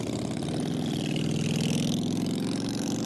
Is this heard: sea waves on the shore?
no